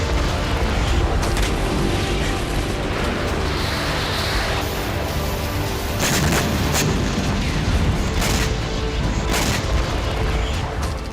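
Artillery, MLRS missile strikes and high-intensity explosives in the Russia-Ukraine war, a continuous loud barrage of booms and blasts with sharp bursts recurring throughout.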